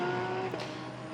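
A Porsche Cayman GT4 race car passes on the Sepang circuit during GT qualifying, its engine note a brief steady drone that fades as it goes by.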